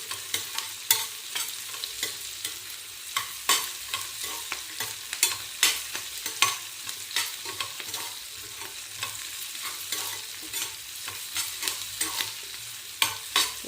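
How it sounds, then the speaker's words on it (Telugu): Onions frying slowly in a pan for a spicy chutney, a steady close sizzle with frequent sharp scrapes and clicks of stirring throughout, no voices. "చూడండి, ఉల్లిపాయలు నెమ్మదిగా వేగుతున్నాయి, మెల్లగా బ్రౌన్ కలర్లోకి వస్తున్నాయి."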